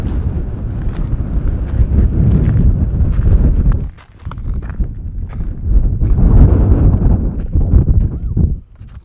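Strong wind outdoors in Alaska buffets the microphone in loud, rumbling gusts that drop briefly near the middle before surging again.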